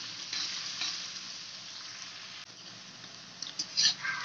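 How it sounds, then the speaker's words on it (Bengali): Onion sizzling steadily in a pan for a restaurant-style pomfret fish curry, a dense even crackle of frying with a few sharper spits and pops near the end, close up and with no talking. "পেঁয়াজটাকে আমরা ভেজে নেবো ভালো করে।"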